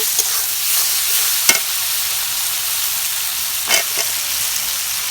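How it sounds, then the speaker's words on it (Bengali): Stirring of potato and eggplant pieces through a spice mix in a pot on a clay stove, a steady sizzle and hiss with a couple of sharper scraping strokes of the spoon. "এখন আলু আর বেগুনটা এই মশলার ভিতরে দিয়ে দেই এই যে নাড়ছি"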